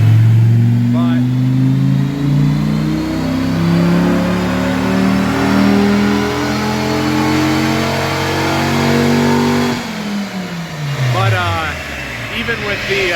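A 1996 Dodge Viper 650R's engine is revved on a dyno, its pitch sweeping upward in a long, loud pull before dropping off and briefly rising again near the end.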